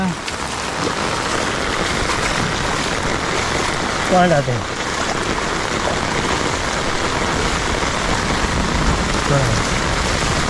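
Sudden heavy monsoon rain pours down in the Konkan countryside, a dense continuous hiss of water on surfaces, with people talking briefly over the downpour.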